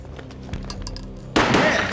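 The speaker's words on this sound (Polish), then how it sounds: "Rozległ się strzał" A sharp, loud gunshot in the game Max Payne cuts through a busy background of music and effects, leaving a noisy burst that lingers.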